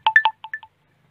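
A short phone notification chime plays during a belt repair on a Mk4, six quick bright tones in a two-part pattern, loud and clear with no talking.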